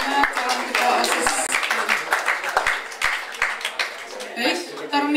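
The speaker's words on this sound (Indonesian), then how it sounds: "kita beri tepuk tangan sekali lagi untuk teman calon ketua OSIS" Audience at a school student council (OSIS) candidate speech event breaks into lively applause, a dense burst of many hands clapping with some voices mixed in, close and loud throughout.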